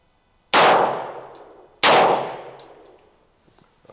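Two sharp, loud gunshots from a Springfield Prodigy pistol about a second apart, each with a long ringing decay, finishing off the magazine with cheap ammunition, and no talking.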